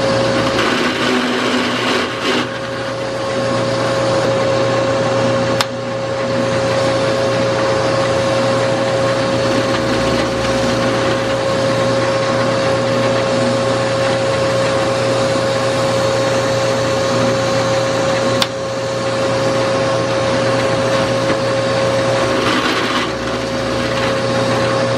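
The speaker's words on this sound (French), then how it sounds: "perceuse à colonne." A drill press runs steadily through the whole stretch, a loud continuous motor whine with a fixed tone, briefly dipping around two points, while drilling holes in wood for homemade dowel plugs that hide screws.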